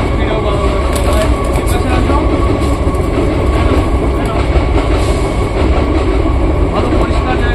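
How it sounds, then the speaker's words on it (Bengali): A train rumbles past close by in a steady, loud roar with faint rhythmic clatter for several seconds, masking other sound. "ট্রেন তো আসবেই, ভিডিও বানানোর সময়"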